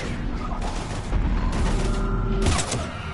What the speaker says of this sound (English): We're almost to the Normandy. I've got Lieutenant Vega with me, but we're taking heavy fire.